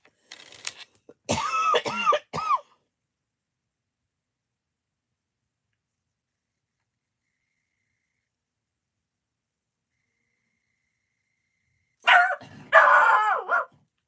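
A pet dog barks indoors during a late-night home livestream, two short bursts of loud, close barks separated by a long silence.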